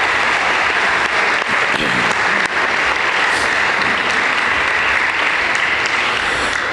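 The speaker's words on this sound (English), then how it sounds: "So a big round of applause for all those people I mentioned, the people who made this fall term so successful." Sustained audience applause fills a school fall athletic assembly, steady and dense from start to finish with no break, loud and close in a large hall.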